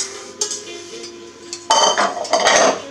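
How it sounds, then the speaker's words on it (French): Eggs whisked in a bowl, with quick metallic clinks and scraping against the bowl starting softer and turning louder and busier partway through. "Donc on fouette."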